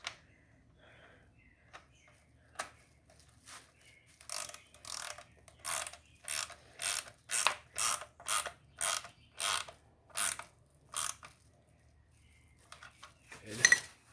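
A hand ratchet tightening fasteners on car intake parts, giving a near, rhythmic series of about a dozen sharp clicking strokes in the middle, with a few isolated clicks before and a clatter at the end.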